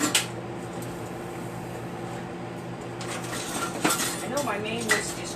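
Kitchen utensils rattle and clank close by as someone rummages through them looking for a whisk, with sharp metal clinks over a steady background hum.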